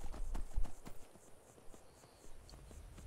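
Horse hooves clop in quick, uneven succession in Skyrim, loudest at the start and then fading to softer, scattered steps against a low ambient game background.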